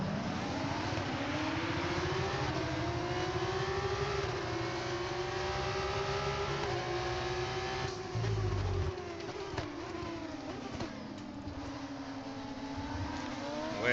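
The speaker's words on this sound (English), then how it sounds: "feed in the throttle, let's build the revs" Formula 1 race car engine in the F1 25 video game, revving hard and holding high revs at the race start, then rising and falling in pitch as it pulls away, loud and continuous with no talk.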